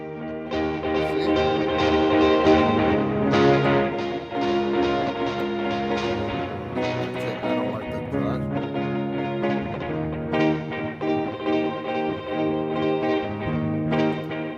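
A guitar track reamped through a Headrush Prime effects unit plays as a thick, sustained distorted tone with chord changes, loud and continuous throughout.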